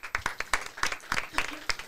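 Scattered clapping from an audience acknowledging a DJ, a handful of separate claps spaced across the moment rather than a dense ovation, fairly light and close.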